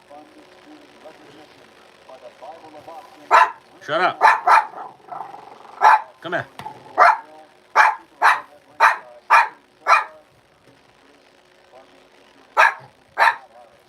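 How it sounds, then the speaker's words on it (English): A dog barks loudly and close in a string of sharp, separate barks, some of them bunched and some spaced about a second apart, with a growl among them and a brief spoken call near the start. "Stop barking at me"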